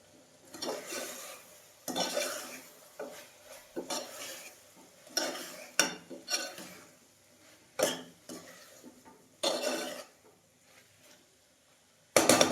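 Spoon stirring coriander-cumin powder into a Kathiyawadi valor bean and eggplant curry, a series of loud scraping stirs against the pan in irregular bursts over a soft sizzle, with no talk.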